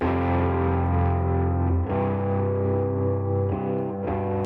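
Sustained electric guitar chords with a distorted tone, washed in reverb and echoing delay, playing continuously with no talking.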